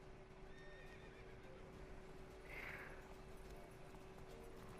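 A horse in The Witcher 3: Wild Hunt gives a single whinny midway through, faint and somewhat distant over a quiet hum of game ambience and soft hoof clopping.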